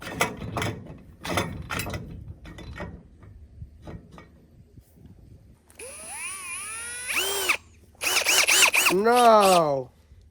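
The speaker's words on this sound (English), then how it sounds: "Did that really break my drill?" A Ridgid power drill whirs in short bursts, the last of them rising and falling in pitch and sounding strained. Some clatter and knocking come first, and someone speaks in between.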